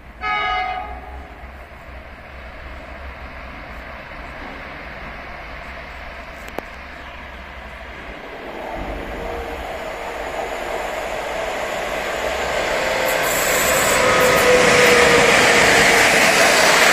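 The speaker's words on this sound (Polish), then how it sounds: "A tam chyba jedzie pociąg." A train approaches with a short horn blast at the start, then its rumble and rushing noise build steadily louder until it roars close by near the end, with no talking.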